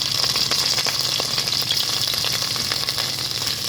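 Fish frying in a home kitchen pan gives a loud, continuous close sizzle with crackling oil pops and a bright hiss throughout, with no talk.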